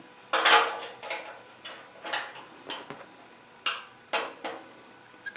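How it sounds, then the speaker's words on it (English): A wrench clicks and clanks sharply against a fitting on a woodworking dust collector, a series of separate metallic ticks and knocks spaced out over several seconds at close range. "Let's get a wrench on that."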